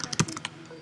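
Quick keystrokes on a Mac computer keyboard as a command is typed, several close, crisp clicks in an irregular burst ending with a louder key press.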